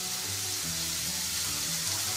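Coconut paste goes into a crab curry frying in a pan, producing a continuous close sizzle and bubbling over a low steady tonal hum.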